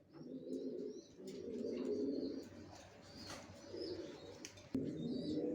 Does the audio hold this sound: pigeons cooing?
yes